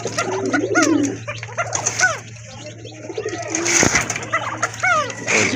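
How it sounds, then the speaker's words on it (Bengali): A female pigeon coos repeatedly in a loft, soft rolling coo phrases close by, mixed with other birds' cooing and a steady low hum, broken by a brief sharp clatter. "মাদিটা কিন্তু খুব ভালোই ডাকতেছে"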